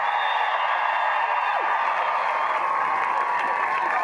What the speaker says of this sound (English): Give them a round of applause, everybody, one more time. Def Leppard!